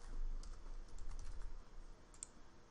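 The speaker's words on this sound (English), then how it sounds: "so I'm going to be typing with one hand" Someone types one-handed on a computer keyboard during Minecraft play, giving faint, steady, uneven key clicks.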